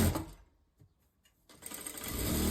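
A sewing machine runs a straight seam with a 1 centimeter allowance on a wrap dress, a loud mechanical whir that stops for about a second, then starts again and keeps going steadily.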